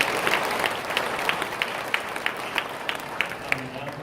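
A church congregation applauding after a Mass homily, a steady, moderate patter of many hands clapping that sounds slightly distant, with a few sharper claps standing out and a faint voice underneath.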